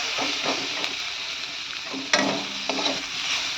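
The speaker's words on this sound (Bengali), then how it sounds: "তো এটা দিয়ে ভালোভাবে একটু ভেজে নেবো" Onion, tomato, garlic and green chilli frying in a pan, a continuous close sizzle with a few spatula scrapes and taps breaking through.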